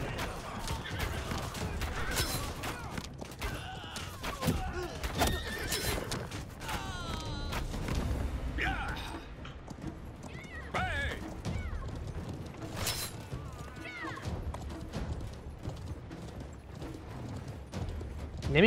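Horses whinny and hooves clatter amid a busy, layered mix of clanks and crashes from the game Conqueror's Blade, with faint voices in the background.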